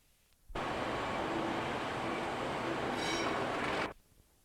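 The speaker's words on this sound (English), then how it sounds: "wagons loaded with scrap are being hauled out of Cooper's yard towards Brightside Lane and the main line" A locomotive hauls scrap-loaded wagons out of a yard toward the main line, a steady loud rumble that swells in abruptly, holds evenly for about three seconds, then cuts off.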